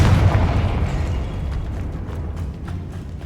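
Confringo fire spell blast in Hogwarts Legacy, a deep booming burst at the start that rumbles and fades over a few seconds.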